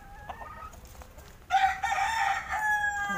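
Desi Golden Misri hens and a rooster in a basket coop, with soft clucks first and then a loud, close rooster crow carrying over the rest, plus farmyard murmur.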